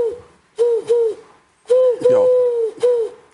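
A man imitating an owl with his voice, giving repeated hollow hoots in two close, loud groups separated by a short pause, with a brief spoken word between them.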